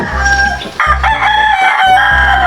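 A pet chicken kept at home calls loudly and close by in a few repeated drawn-out vocal bursts, sounding more like crowing than soft clucking, with no speech over it.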